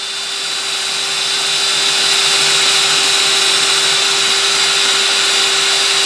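A power drill bores through a mechanical hard drive, giving one loud, continuous high whine that rises at the start and then holds steady, close up and with no speech.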